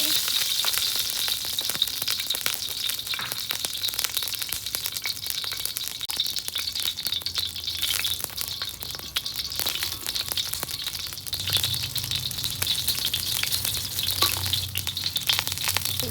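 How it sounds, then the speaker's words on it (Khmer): Beef and vegetables stir-frying in a hot wok over an outdoor fire, a steady loud sizzle and crackle running throughout with occasional stirring scrapes, no talking. "ហើយយើងដាក់ខ្លាំងចូលហើយដើម្បីយើងឆាបន្លែ"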